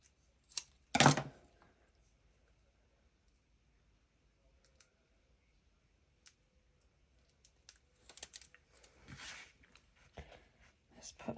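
Scissors cutting paper for a junk journal, a sharp close snip near the start followed by scattered light rustles, taps and paper handling, then a few more crisp cuts near the end, in an otherwise quiet room.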